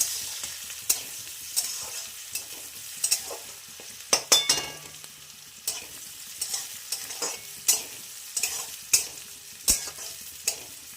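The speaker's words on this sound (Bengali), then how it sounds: "পেঁয়াজটাকে ভাজা ভাজা করে নিই" Chopped onions fry in a hot wok with bay leaf and cumin, giving a steady crackling sizzle punctuated by sharp scraping clicks of a spatula stirring at intervals.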